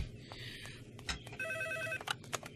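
A telephone rings indoors with repeated electronic trilling bursts over a quiet room tone, moderately loud.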